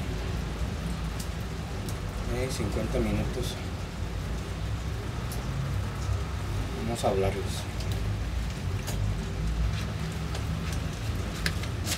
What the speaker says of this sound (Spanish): Está lloviendo, por eso puse la cámara en ese ángulo ahora.